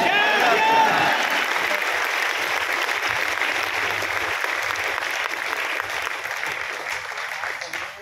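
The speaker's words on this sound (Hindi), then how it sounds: "बजाओ सब लोग ताली" Crowd at a gathering claps together, loud sustained applause that gradually softens over several seconds, with a voice briefly heard at the start.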